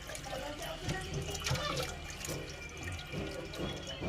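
Water poured and sloshing while large pork intestines are washed in a kitchen, a continuous splashing and trickling stream with brief louder gushes, close and fairly loud.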